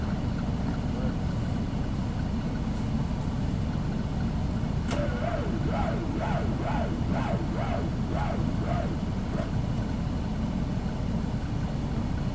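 Over a constant loud engine drone, a starter on weak batteries grinds through a slow, labored series of about eight evenly spaced cranking pulses before stopping.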